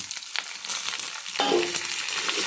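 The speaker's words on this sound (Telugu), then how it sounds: "చక్కగా పోపు వేసేసుకున్నాం" Steady sizzling crackle of spices, including chana dal, tempering in hot oil, close by, with a sharper burst of popping partway through and no talking.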